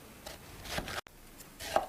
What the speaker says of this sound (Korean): 이렇게 큼직큼직하게 얇게 썰어줘요. 최대한 얇게 썰어줘요.